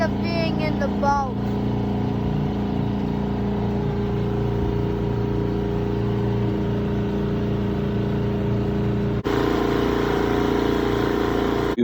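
A boat's outboard engine drones steadily through the whole stretch on an Alaska caribou hunting trip, loud and close with a steady low hum, briefly dipping before resuming; a voice speaks over it early on.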